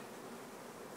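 Honey bees hum in a dense, continuous buzz at an open beehive during queen rearing, close and steady with no pauses and no voices.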